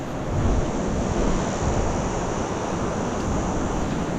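Ocean waves surge into a narrow gap between rock formations on Moreton Island, a continuous loud roaring wash of surf with wind buffeting the microphone, heard close and alone.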